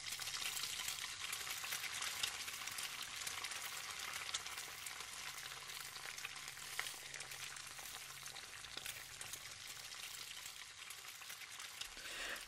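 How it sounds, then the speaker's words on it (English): A steady, crackling sizzle of eggs frying in a pan continues throughout, soft and even, with no voices. "It's just frying."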